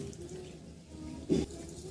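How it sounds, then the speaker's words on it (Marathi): Hot water is poured into mashed toor dal, a short soft splash rising briefly over quiet kitchen background, faint overall. "यामध्ये गरम करून घेतलेलं पाणी टाकून घेऊया।"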